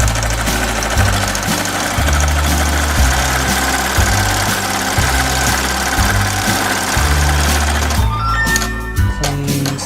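An embroidery machine stitches a Christmas-colored design onto a hooped, stabilized sweater, giving a loud, steady mechanical rhythmic thumping that runs for the whole stretch, with sharper rattling and whirring near the end.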